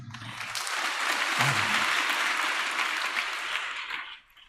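A church audience claps during a sermon, a dense, steady wash of many hands sustained for about four seconds before trailing off, fairly close and loud, with no speech over it.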